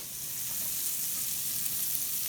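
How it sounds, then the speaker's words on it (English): Garlic sizzles steadily in sesame and ginger oil in a pan, a close, even frying hiss that holds at a constant level throughout with no talking. "Now you can smell the garlic going in the oil"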